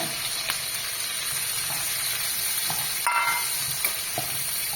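Onions and capsicum stir-fried with garlic in a hot pan for chilli chicken, giving a steady close sizzle with occasional stirring scrapes and small crackles, no talking.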